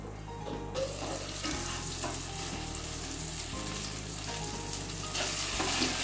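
Chopped tomato fries in a pan of oil for a vegetarian aloo dum, a steady close sizzle with faint low hum beneath, running unbroken without talk.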